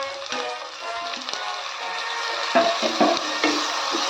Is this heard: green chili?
yes